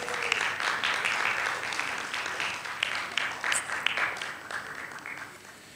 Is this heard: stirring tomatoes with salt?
no